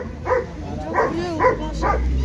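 Puppies and dogs at a dog market in Shymkent give four short yelping barks in quick succession, close by, over steady crowd and outdoor background noise.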